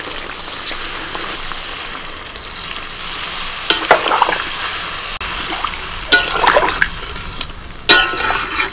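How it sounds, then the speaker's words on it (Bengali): Spices and potatoes are stirred in a hot pan for a chicken biryani, giving a steady low sizzle broken by a few sharp, louder scraping strokes of the spoon against the pan near the end. "আলুর সাথে এই মশলাগুলোকে 2 মিনিট নাড়াচাড়া করে নেব।"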